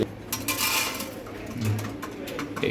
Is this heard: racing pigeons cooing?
yes